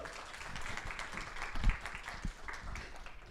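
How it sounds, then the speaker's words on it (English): Applause from an audience at an academic symposium: a dense, fairly quiet patter of many hands clapping across the room, with a few low bumps, no talking. "Let's just give them another round of applause"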